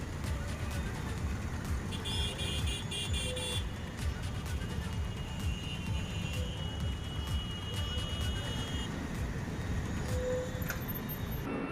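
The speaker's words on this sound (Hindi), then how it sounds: "कालिंदी कुंज बॉर्डर पर एमसीडी टोल लेने के कारण ये भीषण जाम लगा हुआ है" Steady rumble of idling and creeping cars stuck in a long traffic jam at the Kalindi Kunj border toll point, with occasional faint horn toots and beeps in the background.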